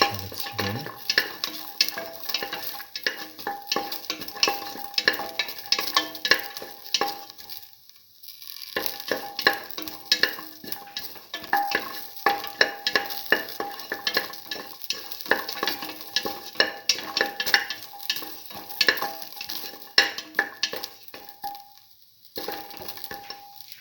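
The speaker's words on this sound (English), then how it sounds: "Saute the garlic and the shallots together" Garlic and shallots sautéing together in a pan, a loud continuous sizzle with frequent stirring scrapes and a brief lull partway through, no voices.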